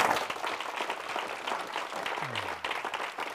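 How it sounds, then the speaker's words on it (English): Audience applause fills a hall at the end of a day of talks, a steady, dense wash of clapping that carries on throughout without any speech over it. "Big round of applause for Aragon."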